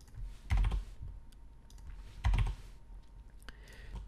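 Code being typed on a computer keyboard in two short, close bursts of clacking keys, with a heavier thump at each burst and quiet gaps in between, a few faint clicks at the end.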